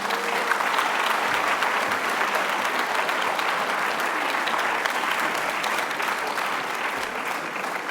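Audience applause at a high-school eloquence contest final in Montreuil, a dense, steady wash of many hands clapping that holds evenly throughout and tapers slightly toward the end.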